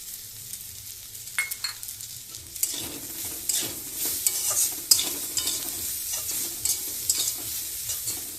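Fried potatoes stirred into a pan of frying egg tarka with reddish-browned onions, giving a steady sizzle with repeated scraping and clattering spoon strokes. The stirring grows louder and busier after a quieter start, with no talking.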